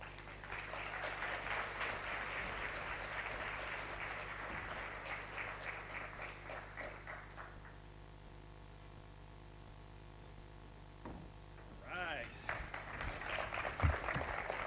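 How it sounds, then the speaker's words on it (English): An audience claps steadily at a university scholarship breakfast for FSU's College of Education, Health, and Human Sciences. The applause fades out after about seven seconds into quiet room tone, and a brief stir of noise follows near the end. "Let's give one more round of applause to Sarah, Kofi, and Francesca"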